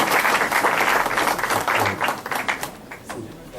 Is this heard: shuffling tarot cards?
no